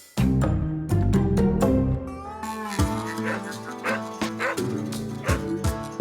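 Feral dogs at an animal shelter give repeated yipping barks, fairly near and loud, with overlapping whimpers under a busy mix of tones.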